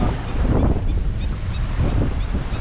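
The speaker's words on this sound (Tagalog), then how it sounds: "Grabe, naalon-alon na ang sobrang lakas hangin." Strong wind gusts at sea and waves wash and surge in a loud, continuous roar, with wind buffeting close on the microphone.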